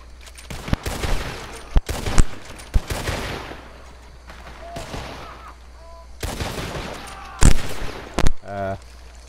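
Shotgun gunfire in the Red Dead Redemption 2 video game sounds as a series of sharp, loud blasts scattered irregularly, some doubled, with quieter stretches between and brief game sounds near the end.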